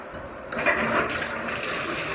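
Water gushes from a newly turned-on plumbing fixture during a home rehab, a steady close rushing flow that grows a little stronger after the first half second and continues to the end.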